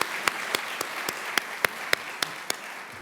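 Sparse audience clapping for a chief secretary at the opening ceremony of the Hong Kong Laureate Forum, with distinct individual claps standing out over a soft wash of applause.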